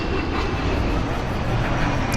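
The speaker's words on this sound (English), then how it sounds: "Excuse this plane go over." Airplane passing overhead close to an airport, a steady broad engine roar that holds at a constant level throughout, loud and continuous, heard alone without talk.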